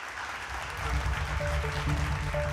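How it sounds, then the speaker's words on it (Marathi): Crowd applause for Anmol Ratna award winners at a Maharashtra awards ceremony, a steady broadband wash of clapping that swells after the first half-second and holds loud and dense to the end. "परत एकदा सर्वांनी त्यांच्यासाठी जोरदार टाळ्या वाजवाव्या"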